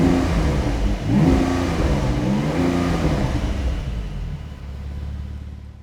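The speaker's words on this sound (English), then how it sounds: "I'm going to turn on the sports exhaust now and I'm going to show you how amazing this actually sounds" A Porsche 911 Turbo S with its sports exhaust engaged revs hard, the engine rising and falling through a couple of deep swells before the roar tapers off toward silence, heard close with no talking.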